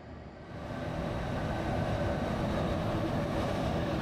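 A night train pulling into a station platform in Stockholm, Sweden, a low rumbling roar swelling over the first second and then holding steady and loud.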